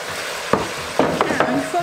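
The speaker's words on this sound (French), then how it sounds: "on va ajouter les oignons et on va les faire fondre et dorer un petit peu à leur tour" Sliced onions fry and brown in a pan with beef for carbonnade flamande, a soft continuous sizzle broken by several sharp scraping stirs of a utensil against the pan.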